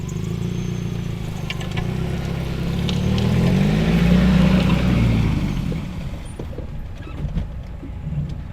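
A car drives along a road past vineyards in Marlborough, its steady engine and tyre rumble swelling to a peak midway and then easing off, heard from inside or close by, with no talking.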